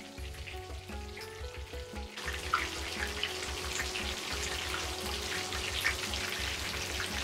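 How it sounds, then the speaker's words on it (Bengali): A whole spiced chicken frying in a pan of oil, a steady close sizzle and crackle that continues throughout, with a low hum in the first couple of seconds. "2 পাশে রং করে ভেজে নেওয়া হচ্ছে যাতে মুরগির মাংসটা একদম ভাজা ভাজা হয়ে আসে।"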